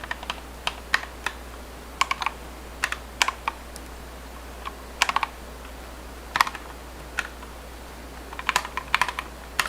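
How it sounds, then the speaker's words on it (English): Computer keyboard typing during a coding and gaming session, with sparse bursts of clicky keystrokes separated by pauses, close and fairly quiet over a steady low hum. "the sound of your keyboard sounds like Mr. Krabs"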